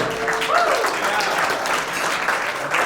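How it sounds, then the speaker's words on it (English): Wedding reception crowd applauding the best man after his speech, steady dense clapping filling the room for about three seconds, with a faint voice and a brief whistle-like tone early on. "One more big round of applause for the best man."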